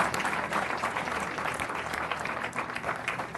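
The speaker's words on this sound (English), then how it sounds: "Let's give them another big round of applause." An audience at a city council meeting claps in steady, close applause for a group of girl singers, a dense patter of many hands lasting a few seconds.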